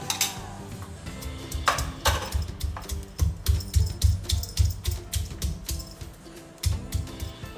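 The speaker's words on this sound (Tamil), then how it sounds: "இப்போ வந்து இது எல்லாத்தையும் நம்ம இடிக்க போகிறோம்" Lemongrass and spices are pounded in a mortar for Thai-style grilled chicken: a steady run of close, regular thuds with brief pauses, and no talking.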